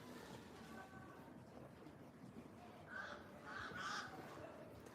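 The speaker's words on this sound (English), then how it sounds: "there's some birds in front of me" Birds in front of the speaker give a few faint, distant caw-like calls in a brief cluster near the end, over a steady outdoor background hiss.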